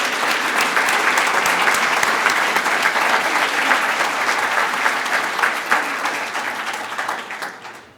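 Large crowd at a student of the year dinner in Hemet San Jacinto applauding family members of a scholarship's namesake, a loud, sustained wash of clapping that fades out at the end.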